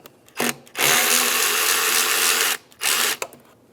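A power tool whirs in short bursts as it loosens a 10 mm band clamp on the intake tube of a 2007-2015 Mazda CX-9, with one brief spurt, a long steady run, then another short burst, close and clear with no talking.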